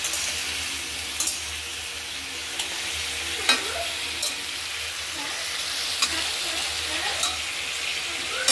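Vegetable curry frying in hot oil with panch phoron while being stirred, a dense continuous sizzle with occasional scraping and clinking of the spatula against the pan, close and steady.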